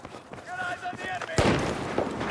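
Gunfire in the Battlefield 4 video game, played on PS5: a sudden loud burst of shots and blasts cuts in partway through, following quieter game sounds with tonal effects, and continues as a dense, rumbling barrage.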